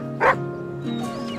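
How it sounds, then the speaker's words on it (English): Dog in the video game The Red Lantern gives one short, sharp bark, then a thin, drawn-out whimper, close and fairly loud against a quiet background. "Oh, there's a pup."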